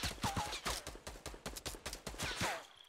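Gunfire in a Fortnite match, a rapid string of sharp, fairly quiet shots and impacts crackling throughout at an uneven rhythm.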